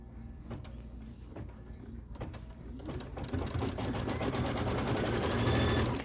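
A sewing machine stitches quilt star block pieces, starting with a few sharp clicks and short bursts, then settling into a louder continuous mechanical whir that builds toward the end.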